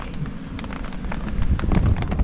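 Rain falls close around a used car for sale on a repossessed-car lot. The patter is dense, steady and fairly loud, with small sharp drops and low rumbles throughout and no talking.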